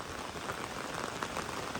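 Steady rainfall, a dense, even wash of drops pattering close by on surfaces, continuous throughout with no voices.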